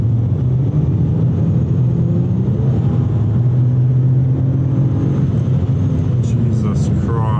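A Pontiac G6E with a turbo swap accelerates under building boost in drive mode, heard from inside the cabin. A loud, steady engine and road drone holds throughout, with a faint whistle rising near the end.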